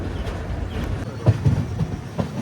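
The Charminar Express rumbles steadily around a curve near Chennai Central, a continuous low roar of wheels on rails with faint rhythmic clacks, heard up close from on board.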